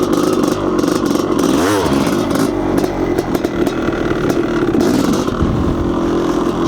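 Honda CR500 two-stroke dirt bike on single track during a slow wheelie, engine revving and bogging with rising and falling throttle, loud and close with clatter from the trail.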